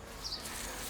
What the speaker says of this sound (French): Petite abeille, là. On va la laisser butiner.